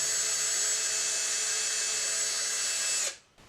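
A power drill with a small bit boring a pilot hole in a cast resin or plaster sculpture piece, a steady close whine for about three seconds that then cuts off abruptly.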